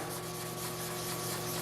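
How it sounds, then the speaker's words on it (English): Steady, quiet hand sanding of small scratches on black car paint, a continuous soft abrasive rub with no pauses. "Need a bit more sanding."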